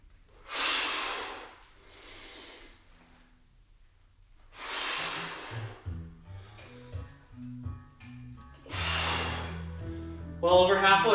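Deep, forceful breaths during a squat fitness exercise come as three long, loud breathy exhales spaced a few seconds apart, with a coach's voice talking in between.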